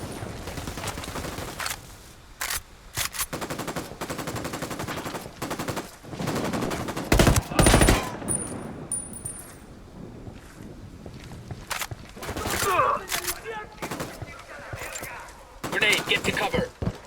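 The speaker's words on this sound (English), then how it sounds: "I'm opening fire on these shitheads." Automatic and single gunshots crackle in the Ghost Recon Wildlands video game, bursts of fire coming in clusters and loud sharp volleys at moments, mixed with footsteps and some shouted voices in between.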